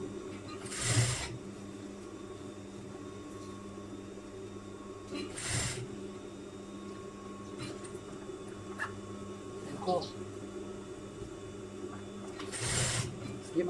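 A sewing machine stitches a zipper onto a half-circle skirt: a steady motor hum runs throughout, with a few brief louder bursts at the start, middle and end.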